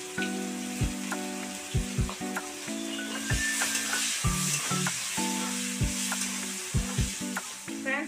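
Mustard seeds, a dried red chili and onion fry and get stirred in oil left over from frying fish, a constant crackling sizzle with occasional scrapes, while a droning tonal hum with clicks runs loudly over it.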